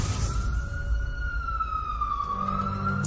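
A wailing ambulance siren sweeps slowly up and down in pitch, steady and moderately distant over low traffic rumble.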